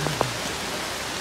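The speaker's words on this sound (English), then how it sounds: "It's pouring." Heavy rain pours down during a thunderstorm on open water around a kayak, a steady, dense hiss of drops filling the air with a couple of brief knocks near the start and no voices.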